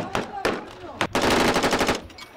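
Machine guns fire bursts at a military exercise in the Moroccan desert, loud and close, with a few single shots followed by a sustained rapid burst.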